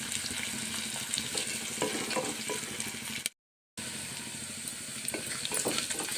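Curry leaves frying in oil in a pan, a continuous close crackling sizzle with faint stirring scrapes, cut by a brief moment of silence midway before the sizzle resumes.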